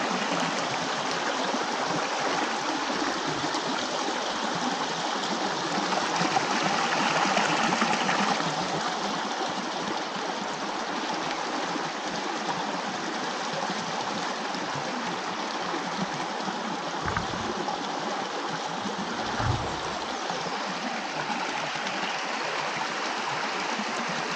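A stream of water flowing out of a cave, rushing and burbling steadily at close range for the whole stretch, swelling slightly partway through, with no talking over it.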